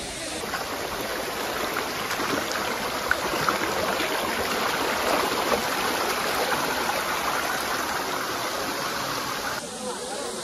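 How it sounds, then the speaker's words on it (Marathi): The perennial Tilari waterfall near Kolhapur, flowing in high summer, gives a steady, unbroken roar of falling water that fills the whole stretch at even loudness and drops off only slightly at the very end. "भर उन्हाळ्यात पण बघा धबधबा कसा चालू आहे"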